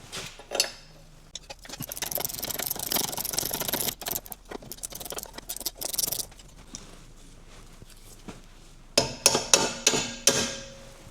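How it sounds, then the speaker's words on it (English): A tool rattles and chatters while a rear coil spring nut is loosened on a 2003 Audi A2, followed by a series of sharp metallic knocks near the end. "Let's release the nut first."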